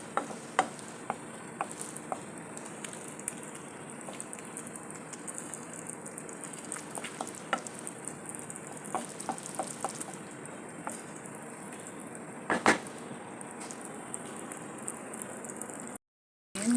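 Cream sauce with chicken breast and vegetables bubbling and simmering in a pan, a steady low hiss dotted with small pops and ticks, with occasional louder clicks.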